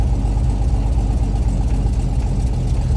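The engine of a 1980 Jeep Cherokee Chief with a plow fitted runs at a steady, loud, low idle throughout, with no voices over it.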